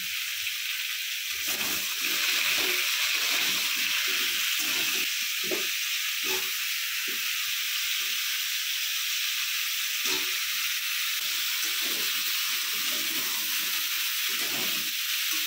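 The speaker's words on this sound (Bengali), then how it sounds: "সবজিগুলোকে নুন দিয়ে হালকা ভেজে নিচ্ছি" Vegetables with salt frying lightly in a pan for a pumpkin-stem curry, a steady close sizzle and hiss with faint stirring clatter throughout, no talking.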